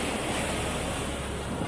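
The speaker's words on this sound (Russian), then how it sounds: "Открытое море, но сегодня штормит, водичка грязненькая." Stormy open sea in August, with rough, muddy surf breaking on a quiet beach: a steady, dense roar of waves close by, continuous and fairly loud, with no voices over it.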